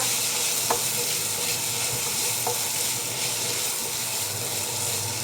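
Corn kernels sautéing with bagoong shrimp paste in a hot pan for an Ilocano dininding dish, steady loud sizzling with a couple of sharp clicks of stirring throughout.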